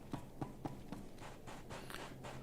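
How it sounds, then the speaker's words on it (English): Footsteps crossing sand and dirt in Star Wars: The Old Republic, a series of soft, evenly spaced crunching steps at a walking pace, faint and close, with no talk. "You'll notice you hear my footsteps."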